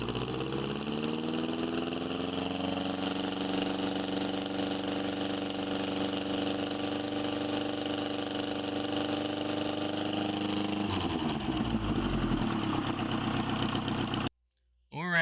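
A restored 1924–1928 Excelsior Henderson four-cylinder motorcycle engine fitted with a Marvel Schebler carburetor runs on a test stand, a loud, steady close-up drone that shifts in pitch, with no talk over it.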